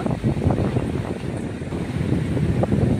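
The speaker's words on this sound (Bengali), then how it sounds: "এই যে ঢেউগুলো আসছে" Sea waves washing in at the river mouth at Digha Mohana, a steady broadband roar with wind buffeting the microphone throughout, no voices.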